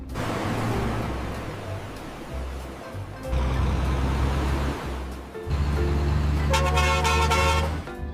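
Toy telolet bus horn, a bright tooting melody that bursts out near the end over a rumbling, rushing background, after earlier stretches of low hum.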